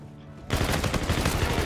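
After a brief quiet moment, a burst of rapid gunfire in the video game Call of Duty: Infinite Warfare erupts and continues loudly, dense overlapping shots in quick succession.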